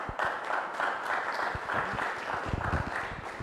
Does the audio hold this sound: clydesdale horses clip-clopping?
no